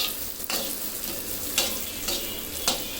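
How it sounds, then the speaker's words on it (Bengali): Onion frying with salt in a pan for a paneer dish, giving a loud, continuous close sizzle broken by a few sharp scrapes of stirring, with no talk. "দু মিনিটের মতন ভাজা হয়ে গিয়েছে দেখুন পেঁয়াজটা কিন্তু একটু হালকা নরম হয়ে গিয়েছে"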